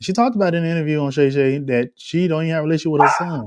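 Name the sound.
dog barking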